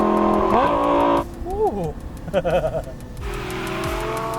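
A rear-wheel-drive Lamborghini Gallardo Balboni engine is revved in a few short, loud blips close by, each rising and falling in pitch, with a brief exclamation from a person.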